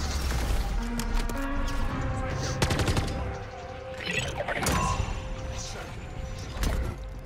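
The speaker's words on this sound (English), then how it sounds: "this cargo drops in the middle of a camp, so get ready for people shooting at us" Gunfire rattles around a camp in Modern Warfare 3 Zombies, with repeated bursts and scattered shots at mid distance under a busy mix of impacts and game noise, continuing for several seconds.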